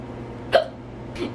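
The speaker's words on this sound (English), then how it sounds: "Hiccups." Two sharp hiccups from a person at a cousins' sleepover, spaced well apart, clear and close over a quiet room background.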